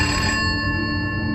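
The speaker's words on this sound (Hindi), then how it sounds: "तभी केबिन का लैंड फोन बजा" An office cabin landline telephone rings loud and close, a steady electronic tone with a sustained buzzing ring and no voices.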